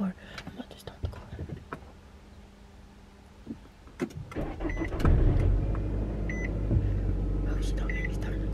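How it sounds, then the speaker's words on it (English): A car engine cranks and starts, settling into a steady idling rumble after some scattered clicks and handling noises inside the vehicle. "I'm in the car. I'm about to start the car."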